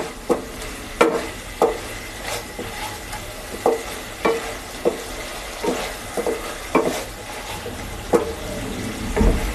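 Masala spices fry for a Bengali egg curry, a soft steady sizzle in the pan broken by a regular series of sharp scraping stirs from a spatula, close and with no voice.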